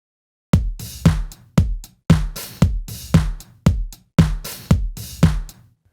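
Looped drum beat with kick drum and a snare nudged slightly behind the kick, about ten evenly spaced hits over six seconds, punchy and close, with no voices.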